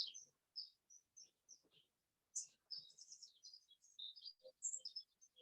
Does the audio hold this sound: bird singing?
yes